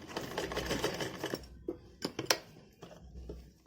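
A domestic sewing machine stitches elastic into a baby's dress, a soft rapid whirring run followed by short bursts and clicks of the mechanism, close and fairly quiet.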